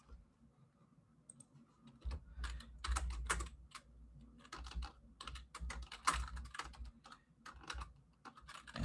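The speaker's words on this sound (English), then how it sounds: "let's write a few lines of code here." Someone types code on a computer keyboard in a notebook session, with irregular bursts of close, crisp key clicks separated by short pauses, and no speech.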